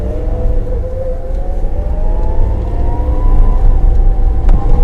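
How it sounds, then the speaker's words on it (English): ABS pulsing on a 2019 Suzuki Jimny crawling in low range off-road, a steady rumbling drone with rising whining tones under the engine, continuous and close throughout. "Oh, you can hear the ABS going in low."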